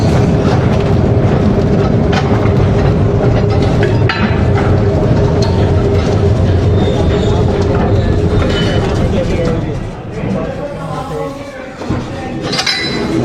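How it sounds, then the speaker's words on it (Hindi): A small locomotive hauls a minecart train through the Khewra Salt Mine, a loud, steady rumble with metallic clinks and rattling wheels that thins out near the end as it slows; someone talks over it. "जी लोकोमोटिव डिटैच हो गया और ये इस लूप लाइन से वापस आएगा और बैक साइड पे आके अटैच हो जाएगा।"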